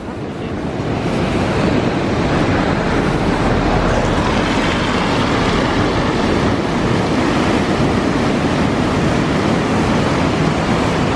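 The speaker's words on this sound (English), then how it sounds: "getting rough on that sea." Rough sea waves surge and break steadily along the shore at Sandsend on the North Yorkshire coast, a loud continuous wash of surf mixed with gusting wind noise across the microphone.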